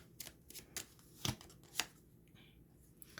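A deck of emoji cards being shuffled, several quick riffling bursts close by with short pauses between them, no talking.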